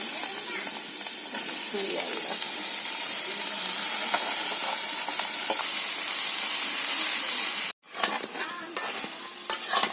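Spices and country chicken sizzle loudly while being sautéed and stirred in a village kitchen. The steady frying hiss drops out briefly near the end and then returns with scraping stirs.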